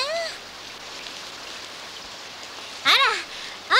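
Steady, soft hiss of rain falling in an animated series runs through the whole stretch, with brief vocal exclamations at the start and near the end.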